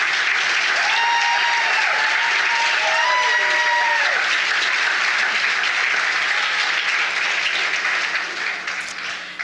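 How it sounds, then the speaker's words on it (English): An audience applauds the candidates at a community festival ambassador coronation, a sustained, even clapping that fades near the end, while a few brief voices rise above it early on. "let's give one round of applause for all of our candidates"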